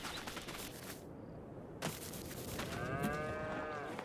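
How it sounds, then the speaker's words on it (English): Cows low in a farming simulation game, a few drawn-out moos rising near the end over a dense, steady background of ambient game noise. "Cows."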